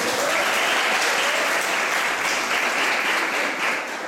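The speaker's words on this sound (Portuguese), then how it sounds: "Vamos aplaudir." An audience at a women's church gathering applauds loudly and steadily for about four seconds, the clapping thinning slightly near the end.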